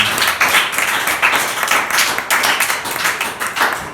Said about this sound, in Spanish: Ese aplauso sea para el Señor Jesucristo